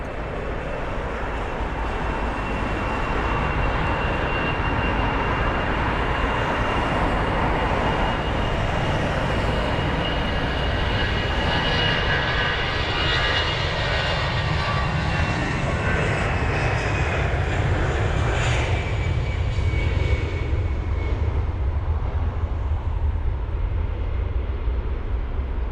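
An airplane moving at London Heathrow airport makes a loud, steady engine roar and rumble that lasts the whole stretch without a break, with no voices above it.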